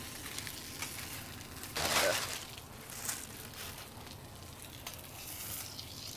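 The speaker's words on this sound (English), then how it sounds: "It's sizzling." Chicken for chicken parmesan fries in a pan with a steady sizzle throughout, with a louder crackling burst partway through.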